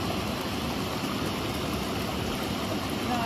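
Steady, close water noise from a jacuzzi at One0Eight Place in Benoni, a continuous bubbling rush that fills the whole stretch with no voices over it.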